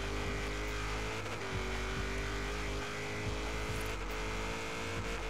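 V8-swapped Nissan S14 drifting in Forza Horizon 3, its engine holding a loud, sustained high-rev drone with brief dips and surges as the car slides, heard up close throughout.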